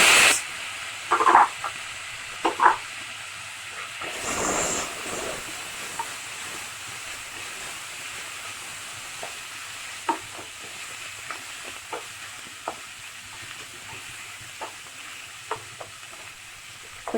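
Tomato dropped into a hot pan sizzles and sautés for lemon idli, opening with a few loud splattering bursts and a steam hiss, then settling into a soft continuous sizzle with light stirring taps.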